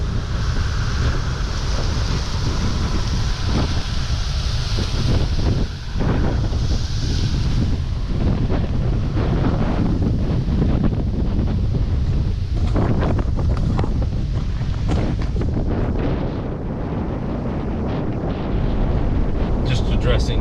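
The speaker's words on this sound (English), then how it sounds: "So my apologies in advance for the sound of the wind." Strong gusts buffet the microphone outdoors on an extremely windy day at an active cattle ranch with Jeep trails, a loud, constant low roar with surging bursts that drowns everything else throughout.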